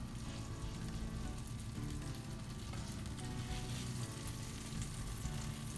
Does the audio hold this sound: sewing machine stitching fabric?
no